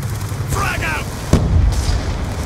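A frag grenade goes off in Call of Duty Black Ops II multiplayer Team Deathmatch, one loud sharp blast cutting through busy game noise, with voices calling out around it.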